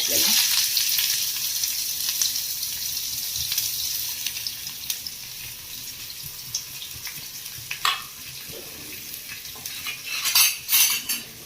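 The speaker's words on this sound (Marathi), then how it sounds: "कांदा टाकून घ्यायचे कांदा चांगला परतवून घ्यायचे" Onion sautéing in a pan for spicy kantola bharit, a steady sizzle that fades somewhat, broken by several spatula scrapes and clinks near the end.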